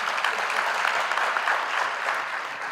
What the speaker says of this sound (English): let's applaud him and the SRC for that